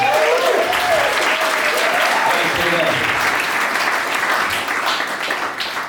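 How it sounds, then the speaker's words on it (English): Wedding guests applaud the family with sustained, dense clapping from a sizable crowd, loud and steady throughout before tapering slightly at the end. "One more round of applause for the entire family"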